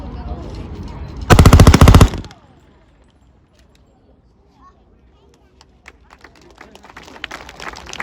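M3 grease gun submachine gun fires one loud rapid burst lasting under a second at close range, followed by quiet, with scattered background noise and faint crowd sounds afterward at an outdoor military history event.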